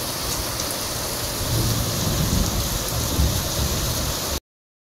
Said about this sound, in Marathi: आमच्याकडे तर मस्त पाऊस आहे.